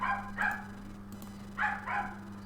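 Neighbor's puppies barking in short yappy bursts, two quick clusters early and two more later, over a steady low electrical hum indoors.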